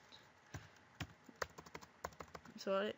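Keystrokes tap out on a computer keyboard, typing a search into a Firefox search bar in separate quick bursts, fairly close and clear, ending in a louder, sustained rising tone.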